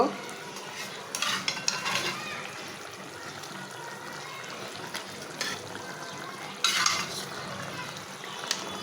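Soft simmering and bubbling in a pot of mustard curry, with a few brief scraping and splashing bursts as pieces of fried fish are added and stirred; fairly quiet overall.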